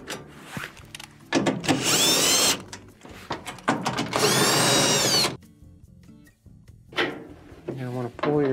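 A power tool whirs out the screws on the blower housing of a Whirlpool dryer in two close bursts of about a second each, with clatter and handling noises from the panel around them.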